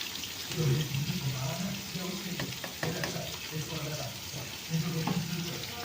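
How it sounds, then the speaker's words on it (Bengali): Onions sizzle in hot oil as birista is fried for biryani in a home kitchen, a steady close crackle with occasional stirring clinks, while someone talks over it. "এদিকে বেরেস্তা বসিয়ে দিয়েছি মানে এটা ভাজতে বসিয়ে দিয়েছি"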